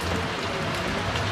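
Steady outdoor rain falling and pattering on surfaces, a dense, constant hiss with no pauses, fairly loud and close, with no voices over it.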